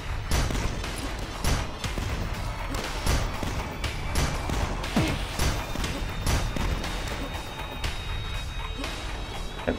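Rapid bursts of gunfire in the video game DUSK crackle and thump repeatedly, some shots clustered in quick volleys, loud and close throughout.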